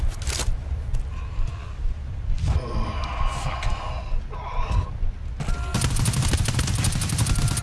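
A sentry gun firing in a video game, sharp repeated gunfire bursts mixed with mechanical game noises, followed by a dense continuous rattle of shots toward the end.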